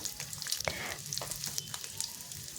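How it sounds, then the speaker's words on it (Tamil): A large onion fries in a small amount of lightly heated oil in a pan for chutney, giving a steady close crackling sizzle with scattered sharp pops and light stirring scrapes, with no voices. "ஒரு பேனில் கொஞ்சமாக எண்ணெய் விட்டுக்கலாம் எண்ணெய் லைட்டாக சூடானா போதுங்க கூட ஒரு பெரிய வெங்காயம் ஆட் பண்ணிக்கலாம்"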